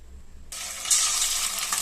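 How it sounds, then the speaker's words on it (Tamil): Chicken pieces drop into hot oil and a loud, crackling sizzle bursts up, continuing steadily and close by. "இப்போ சிக்கனை கொஞ்சம் கொஞ்சமா போட்டு பொரிச்சு எடுத்துக்குவோம்"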